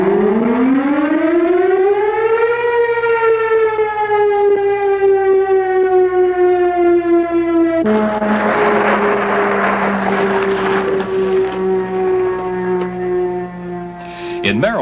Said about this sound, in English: That sound is the alarm calling volunteer firemen to their stations.